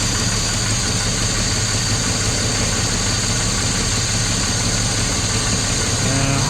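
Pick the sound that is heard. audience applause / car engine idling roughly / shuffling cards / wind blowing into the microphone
car engine idling roughly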